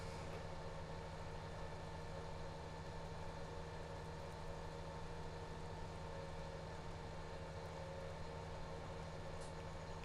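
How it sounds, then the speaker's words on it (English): A 450 tractor working muddy soil, a faint, continuous engine drone with a steady harmonic hum that holds even throughout. "And there is our 450, chewing his way through the soil."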